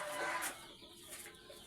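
Hens and chicks being fed give a brief burst of soft clucking and high peeping, close and quiet, with no talking.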